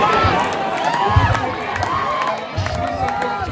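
Spectators crowd a ground at night for a kabaddi final, a dense hubbub of shouting and cheering voices, with excited calls rising over the steady crowd noise.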